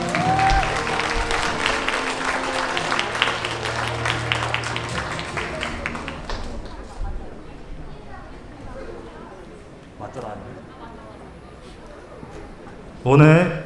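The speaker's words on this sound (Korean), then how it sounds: "다시 한 번 큰 박수 부탁드립니다" Steady applause at a wedding ceremony in a convention hall ballroom fills the first six seconds, then fades into murmuring crowd chatter, with a loud burst near the end.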